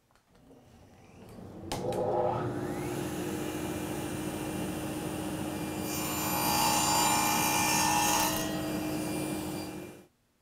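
A table saw spins up, then its blade cuts through wood, a steady loud whine that rises into a harsher cutting roar before winding down, with no one speaking.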